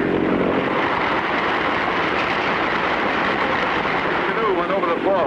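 A float plane's engine in the 1959-60 Clutch Cargo cartoon gives a loud, continuous propeller drone that stays steady throughout, with a faint wavering whistle rising near the end.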